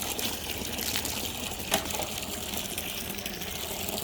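Water pours in a steady, even gush to rinse soap off a dog during its bath, a continuous close hiss that holds for the whole stretch with one brief splash partway through.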